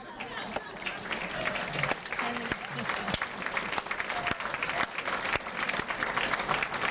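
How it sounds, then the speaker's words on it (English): A standing audience at a Rotary Youth Awards evening in Delta, BC, applauds in one steady, dense wash of clapping that holds for the full seven seconds, loud and close. "Give yourself some applause."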